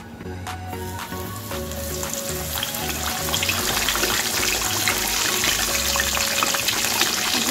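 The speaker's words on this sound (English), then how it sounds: "Now we fry our scallop." Breaded chicken breast (skalog) frying in oil over a low flame, with a steady bubbling sizzle that grows slightly louder and runs continuously at close range, without talk.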